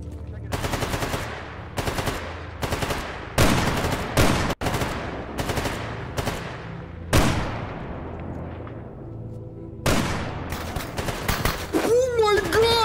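Gunfire in the video game STALKER GAMMA: repeated bursts of automatic fire and single loud shots crack one after another, some with long ringing echoes, loud and close with occasional gaps.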